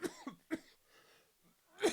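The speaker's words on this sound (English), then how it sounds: "excuse my cough" A few sharp, dry coughs close by, two quick ones then a pause before a final louder cough, in an otherwise quiet room.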